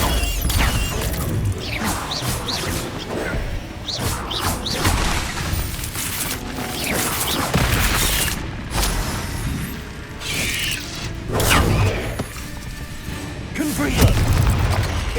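Confringo blasting spells exploding in Hogwarts Legacy, with repeated heavy booms, crashes and shattering hits in a busy, continuous battle din, and a voice speaking now and then beneath it.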